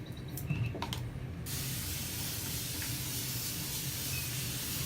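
A spray bottle gives a few quick bursts of water up front onto natural hair, followed by a sustained soft hiss of misting that continues steadily and fairly quietly.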